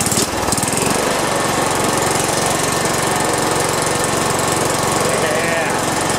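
A Kawasaki FC420V small engine cranks, catches and runs, a loud steady rapid chugging that fills the clip close up after a brief start.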